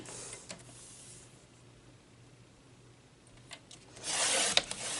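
A paper trimmer slices through card stock for a birthday cardmaking kit: faint brief scrapes early on, then a louder rasping cut near the end, close by in a quiet room.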